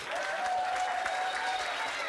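At a chamber of commerce ribbon cutting, a small crowd gives a brief, even round of clapping for the chamber's leader, moderately distant and steady for about two seconds, with a faint voice or tone running under it.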